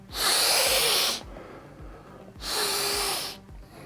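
A person sniffs a boxed Warhammer Age of Sigmar miniature set, two long breathy inhales close to the mic separated by a quieter pause, with no talking.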